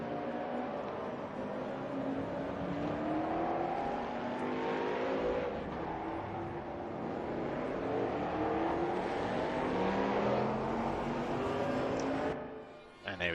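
DTM 1992 touring race cars in the Raceroom sim racing game roar off the line together at a race start, a dense, loud engine drone with rising revs and gear shifts, ending in a brief drop.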